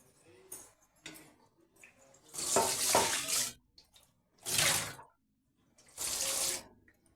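A utensil washed under a running kitchen tap in several separate bursts of splashing water, close and fairly loud, with quieter clinks and handling noises between them.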